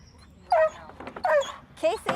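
A border collie gives three sharp, high barks and whimpering yips in quick bursts while digging, close by, alternating with short quiet gaps.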